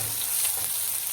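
Onion sizzling in a pan with garlic already browned in hot oil, a steady bright fry hiss throughout at close range with no talk.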